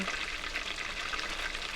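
Steady crackling sizzle of beer-battered Alaskan halibut frying in hot oil, a continuous bright hiss with fine popping, close and uninterrupted, no voices.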